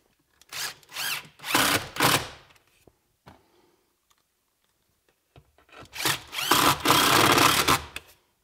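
A cordless power drill drives screws to mount a battery charger, whirring in several short close bursts, then a pause and a longer cluster of revving bursts.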